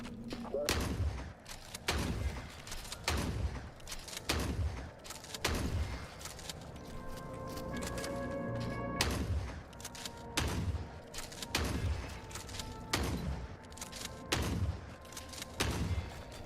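Sniper rifle shots ring out in the war shooter Forever Winter, a dozen or so heavy booming cracks spaced a second or two apart, loud and close, with a voice talking between them.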